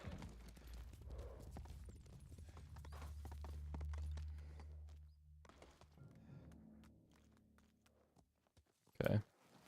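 Hooves of the horse Kage in the game Ghost of Tsushima, clip-clop steps under a low musical drone, fading out before a short loud burst near the end.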